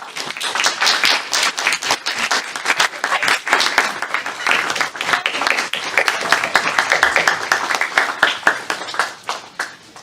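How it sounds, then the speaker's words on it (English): Audience at a county board of supervisors candidate forum giving the candidates a standing round of applause, dense continuous clapping with uneven peaks running for the full ten seconds. "everyone stand and give them a round of applause"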